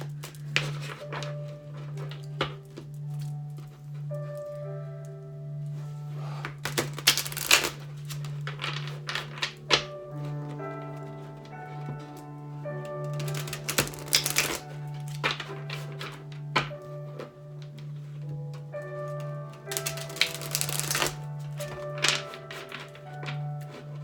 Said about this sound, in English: I'm gonna do some shuffles here for Sagittarius.